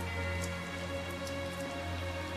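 Rain falling in the Tales of Zestiria video game, a steady hiss of rain over a constant low hum and soft background music, no voices.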